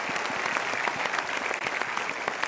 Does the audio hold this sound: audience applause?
yes